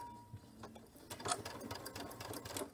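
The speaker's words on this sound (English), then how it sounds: "doing my first stitching just on right along that same stitching line as I did before" A sewing machine stitches piping onto a quilt, its needle running in short, quick rattling bursts that start and stop, close and fairly quiet.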